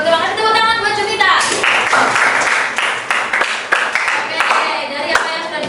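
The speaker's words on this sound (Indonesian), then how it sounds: "tepuk tangan buat Jupita" Classroom clapping for a student after a lesson, a group of hands clapping in quick irregular bursts, starting after a spoken line and continuing with some talk mixed in.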